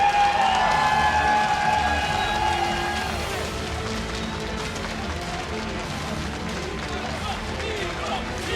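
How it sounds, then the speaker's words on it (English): A crowd at IEM Katowice cheers and claps for StarCraft 2 player herO, a broad, steady roar that eases slightly after the start, with a fading musical tone early on. "Please make some noise for CJ Enters herO!"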